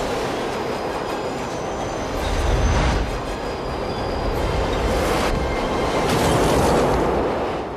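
A train rushes past in a scene from The Matrix, a loud sustained rumble with rattling wheels and hiss that swells around the third second and again near the end, with no talk.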